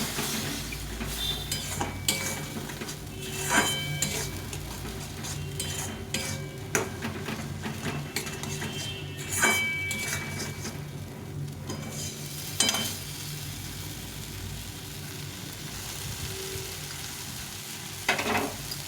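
Chickpea masala for ghugni stir-fried in a pan with a splash of water, a steady sizzle broken by repeated scrapes and clinks of a spoon against the metal pan throughout.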